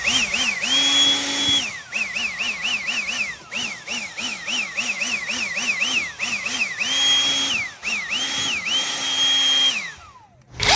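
A power tool with a steel wire brush scrubs rust and grime off a motorcycle magneto, its motor whining loudly and steadily, pitch dipping and rising in quick repeated wavers as the brush bites, with one long steady stretch and a spin-down at the end.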